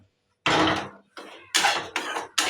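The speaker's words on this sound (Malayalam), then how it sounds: "ചുമച്ച് തുടങ്ങി" Four short, harsh coughing bursts at close range, set off by pungent fumes while spices and coconut are roasted for a fish curry in a home kitchen, with brief pauses between the coughs.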